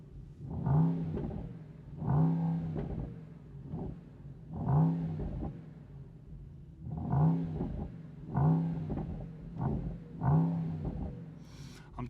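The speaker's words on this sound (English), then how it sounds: "the exhaust on the GT is so much louder. We have so much more pops and bangs" A 2024 Mercedes-AMG GT63 V8 revs in repeated bursts through its loud exhaust, about eight rising blips roughly a second and a half apart with burbling between them, heard from the car with its windows down and no talking.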